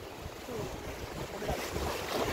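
Sea waves wash and surge against the rocks of a sea cave at Coloane, Macau, a steady broadband rush with wind buffeting the microphone, rising slightly in strength toward the end, with no voices.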